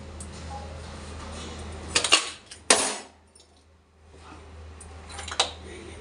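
Dishes and pots clatter in a home kitchen after washing, with a few sharp clinks and clanks standing out over a steady low hum, apparently a cooler fan running in the background.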